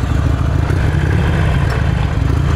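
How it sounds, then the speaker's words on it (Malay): A Harley-Davidson Iron 883 motorcycle engine idles steadily at close range, a low, even rumble with a faint clatter and no voices. "Jom kita belanja bunyi motor"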